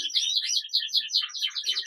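Clear Border canary cock bird chirping and twittering in quick, continuous bright phrases, close and fairly loud, with no other sound around it.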